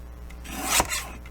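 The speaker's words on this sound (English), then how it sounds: "trim them off so they have 2 straight sides" A paper trimmer slices through two stacked book pages in one quick rasping cut that swells and ends sharply, close and fairly quiet.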